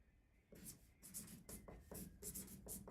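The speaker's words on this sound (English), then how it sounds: "Let me write it" A pen or pencil writes out a math problem by hand in a series of short, faint scratching strokes with brief pauses between them, close and quiet.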